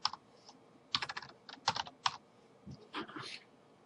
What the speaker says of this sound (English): In this case, we're going to type in enter your name.